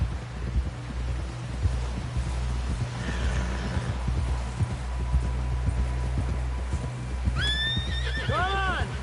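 A horse in the video game Red Dead Redemption 2 clip-clops steadily through most of the passage under wind, then lets out a loud, shrill whinny near the end.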